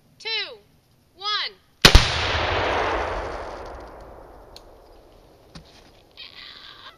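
A single loud, close gunshot cracks out in cold weather and rolls into a long fading echo, preceded by two short whistle-like calls and followed by faint clicks and a soft hiss.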